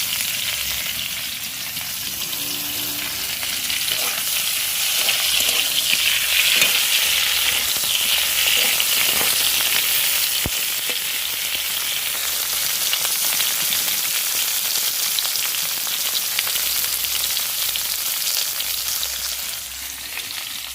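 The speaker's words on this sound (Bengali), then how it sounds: "কপিটা ভাজতে গিয়ে চুঁয়ে যাচ্ছে কড়াটা" Cauliflower sizzling in hot oil in a wok: a continuous dense hiss, swelling slightly midway, punctuated by faint stirring clinks and scrapes, with no voices present.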